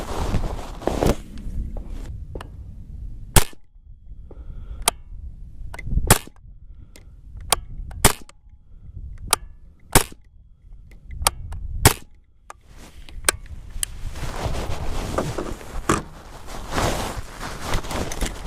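Suppressed pistol shots with VMAX rounds through a Griffin Optimus Micro suppressor, a dozen or so sharp muffled cracks at irregular intervals outdoors at about 45 yards, with wind noise and shuffling between shots.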